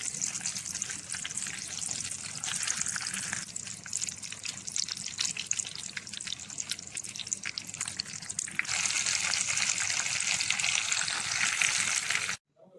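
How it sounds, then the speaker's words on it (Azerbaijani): Chicken frying in a pan, browned on both sides, a continuous hissing sizzle that holds steady, then grows louder and brighter toward the end before cutting off abruptly. "Hər iki yüzünü də yaxşıca qızardıram."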